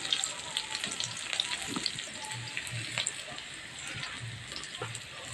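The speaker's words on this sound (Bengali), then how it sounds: "পেঁয়াজগুলো ভালো করে ভেজে নেব।" Onions fry in a kadai with cumin seeds, a steady close sizzle broken by scraping stirs and small crackles, moderately loud and without speech.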